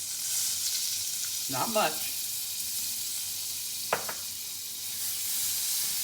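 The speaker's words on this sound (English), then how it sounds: "I stir that garlic so it starts to pop and turns a little bit brown" Fresh garlic sizzles in browned butter over medium heat, a steady bright hiss with a couple of brief stirring scrapes, while a voice speaks briefly.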